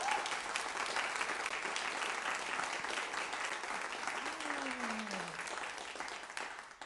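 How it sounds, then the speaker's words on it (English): Sustained applause from an audience at a community gathering on money bail, steady and dense throughout, with a faint sliding tone drifting downward partway through and the clapping thinning near the end. "Let's get a huge applause for Vera that"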